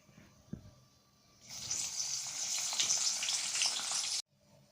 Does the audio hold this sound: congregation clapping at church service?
no